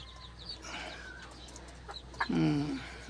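Fighting rooster chickens cluck near the recorder in a short, loud burst of layered calls toward the end, with scattered fainter clucks and bird chatter beforehand over a steady low hum.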